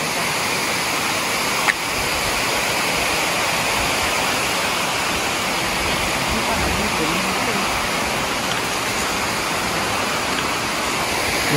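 Rushing water of a clear jungle river roars steadily and broadband throughout, like a fast-flowing river or cascade, close and loud with no pauses.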